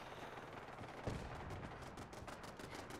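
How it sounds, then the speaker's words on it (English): Turrets fire in Mass Effect 2 or Fallout 4 as quiet, distant, regular rapid bursts of shots, pulsing steadily over a low background hum. "Oh, that's these turrets."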